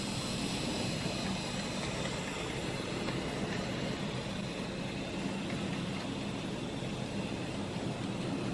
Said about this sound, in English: We now have another train of wagons arrive, ready to take part in this shunting puzzle.